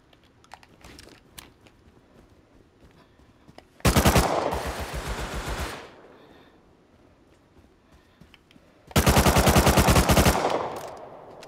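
Two long, loud automatic bursts from a custom SMG in the console game Rust, each lasting about two seconds with rapid even shots, separated by quieter clicks and faint background noise.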